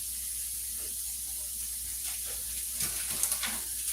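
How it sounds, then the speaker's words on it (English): Sausages and bacon sizzle in a pan, a soft steady hiss of frying fat heard close, with a few faint crackles and pops near the end. "So my sausages are cooking"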